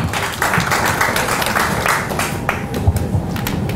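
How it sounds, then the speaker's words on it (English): Clapping fills a morning forum as the audience welcomes speaker Mike Palacios, a continuous crowd applause with some individual claps standing out close by, steady and fairly loud for nearly four seconds. "So let's give Mike a hand of applause."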